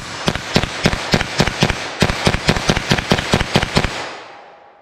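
Rapid string of .22 LR gunshots firing CCI Stinger ammunition, around seventeen sharp loud cracks in quick, fairly even succession with a brief pause midway, ending in a fading tail.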